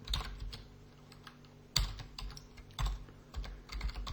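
Someone types code on a computer keyboard, short irregular bursts of soft key clicks with a few heavier taps, close and quiet, no voices.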